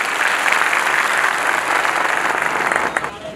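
A crowd at an Independence Day gathering at a madrasa in Rajasthan breaks into loud, sustained clapping that holds steady for a few seconds before tapering at the end, with no talk over it.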